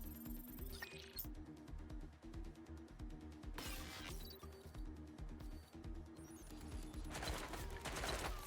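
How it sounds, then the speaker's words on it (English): Quiet bursts of gunfire crackle in the Watch Dogs Legion video game, several short volleys spaced apart over a low droning music bed. "Shots fired!"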